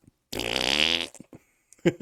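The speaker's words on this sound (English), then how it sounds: "Farting on my roommate's door." A single loud, close fart lasts under a second, followed by a few short, faint voice fragments.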